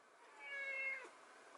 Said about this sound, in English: that's my cat acting a damn fool in the background